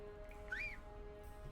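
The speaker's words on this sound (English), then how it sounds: "Let's whistle." A character whistles in the game LOTRO, one short rising-and-falling whistled note, faint and clear over quiet background hum.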